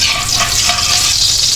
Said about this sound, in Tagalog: Gisa natin yung ating bawang guys.